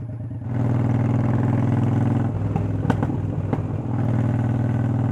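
A Triumph Speedmaster motorcycle engine runs loudly nearby, its steady throb easing off into a short cluster of sharp crackling pops on the overrun before the drone resumes.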